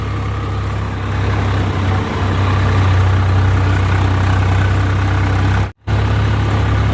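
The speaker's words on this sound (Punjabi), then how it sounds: "ਦੋ ਟਰੈਕਟਰਾਂ ਨੇ ਮਸਾਂ ਗੱਡੀਆਂ ਟਰਾਲੀ" A tractor engine runs steadily at a sugar mill while hauling a trolley loaded with sugarcane, a loud, constant low diesel drone throughout with one brief dropout near the end.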